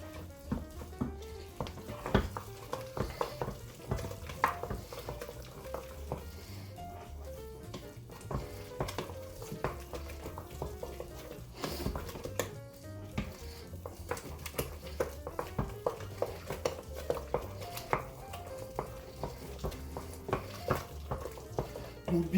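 A white risotto being stirred with lots of butter and grated parmesan gives a continuous close scraping and soft sizzle, punctuated by small clinks of the spoon against the pan.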